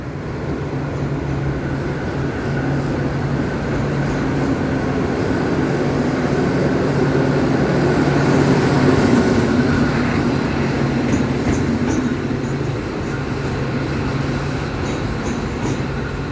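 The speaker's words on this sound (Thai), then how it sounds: "เลี้ยวเข้าในชานชาลาที่2แล้วเดี๋ยวก็จะถอยเข้ามาต่อขบวนนะ" A train rolls slowly at Thonburi station, turning into platform 2 to reverse and couple: a loud, steady rumbling engine and wheel noise close by, with faint metallic clicks, no voices.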